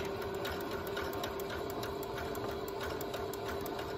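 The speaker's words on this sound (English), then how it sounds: "I'm going to kind of do a zigzag off the edge" A sewing machine runs steadily in zigzag stitch along the edge of a quilted hot pad, a continuous close mechanical whir with rapid regular needle ticks and no voices.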